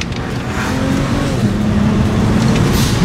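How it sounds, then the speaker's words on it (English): A BMW bought out of impound accelerates hard, its engine roaring loud and close in a sustained, rising pull through the gears, with a turbo blow-off valve on the car; no speech. "I hate that blow off valve though."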